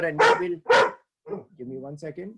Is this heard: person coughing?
no